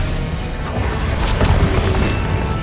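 A Confringo blasting spell explodes in the Hogwarts Legacy video game, a dense, rumbling boom that holds steady for a few seconds with a sharper crack near the middle.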